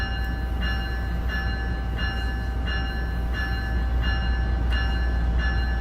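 An Amtrak train hauled by an ACS-64 locomotive in the Train Sim Classic game, on the Northeast Corridor, gives off a steady tonal hum under a loud rumble, with sharp clicks repeating about every half second and no voices.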